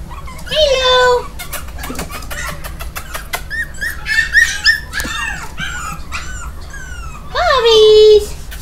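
Pomeranian puppies yap and whine in a lively mix of sharp barks and high whimpers close by, while a woman calls to them excitedly over the noise.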